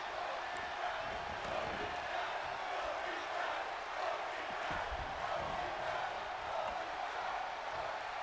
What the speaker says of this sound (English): I don't know what the crowd's chanting.